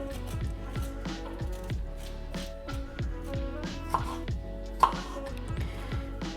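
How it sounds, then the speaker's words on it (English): The edge of a spoon scrapes the skin off ginger in a rhythmic run of short close rasps, with a couple of sharper taps, while soft music plays underneath. "Quick and easy way of peeling ginger, just use the corner of a spoon, or the side, I suppose."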